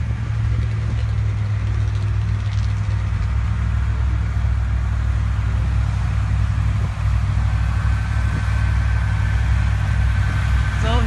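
Water truck and tractor engines roll past in a sand drag parade, a continuous loud low-pitched idling drone with deep rumble, while a voice talks over it throughout.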